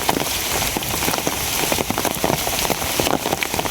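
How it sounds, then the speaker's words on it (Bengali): Heavy rain pours steadily outdoors during a fishing trip, a dense, loud and continuous hiss of drops striking surfaces with no let-up and no voices. "আজকের ভিডিওটা তো বেশিরভাগই খালি বৃষ্টি যাইতেছে"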